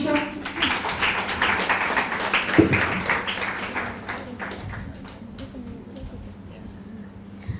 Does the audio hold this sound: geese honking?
no